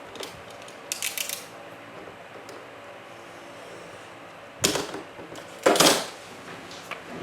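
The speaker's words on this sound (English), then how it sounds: "actually I might just trim this side down first" Scissors trim the edge of a paper piece for a junk journal card, with a few short crisp snipping bursts, a closer pair near the end, over quiet room tone.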